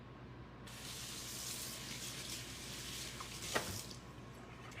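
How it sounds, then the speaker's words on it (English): Kitchen tap running steadily as hands are rinsed under it, a soft continuous hiss of water that starts abruptly and stops near the end, fairly faint with no talking. "Let me just give my hands a rinse here"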